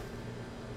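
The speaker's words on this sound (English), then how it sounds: "so here's my fan on low." An electric fan runs on its low setting as a faint, steady, even whoosh of air that holds without change through the moment.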